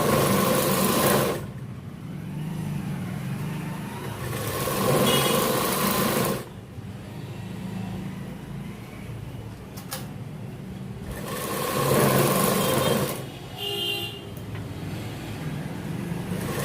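A sewing machine stitches the edge of a saree in several sustained whirring runs broken by short pauses, fairly loud and heard alone.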